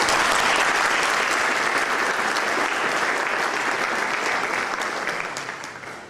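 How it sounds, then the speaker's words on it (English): An audience at an interfaith dinner in Dayton in 2012 bursts into steady, dense applause from many hands, holding strong before tapering off at the end. "Let's have a big applause for them once again."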